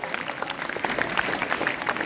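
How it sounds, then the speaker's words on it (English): Audience applause at a school education-week celebration of children's program items, a steady, dense patter of many hands clapping at moderate volume throughout, with no voices over it. "Big applause for all"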